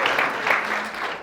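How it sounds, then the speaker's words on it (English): An audience at a live event applauds, a short burst of dense, steady clapping from many hands. "Big round of applause for Roderick."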